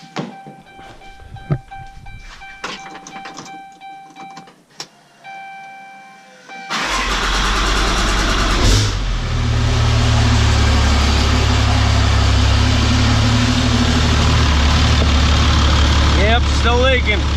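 A 6.7 Cummins diesel truck engine cranks and starts after a few clicks and thunks, then settles into a loud, steady rumbling idle at close range with no one talking over it.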